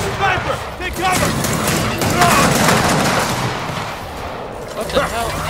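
Sniper and other gunfire in Gears of War 4, a dense stretch of loud shots and bursts overlapping one another, up close and continuous.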